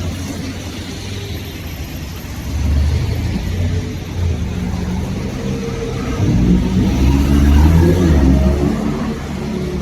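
A McLaren sports car engine revs on a street in Zurich, a deep rumble that swells twice among surrounding traffic noise, fairly close and loud.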